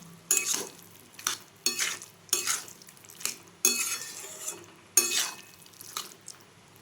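A spoon stirring vegetable masala dalia in a pan, a series of distinct scraping strokes with a light sizzle underneath, each stroke rising sharply and fading in an uneven rhythm.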